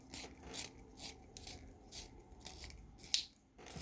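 A Reynolds Energi Super Dark pencil is turned in a sharpener, giving close, quiet, rhythmic scraping strokes repeating about twice a second with brief pauses, and no speech.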